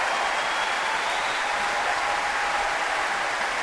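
A large concert audience at the BBC Proms applauds and cheers after a performance of Oklahoma!, a dense, continuous roar of clapping heard alone.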